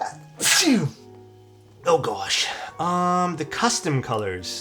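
One sharp, close sneeze bursts out near the start, and a person talks afterward.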